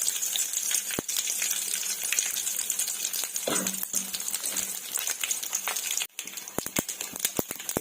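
Crushed garlic sizzling in hot oil for a spinach dal, a steady close crackling fry with scattered sharp pops and clicks of stirring throughout.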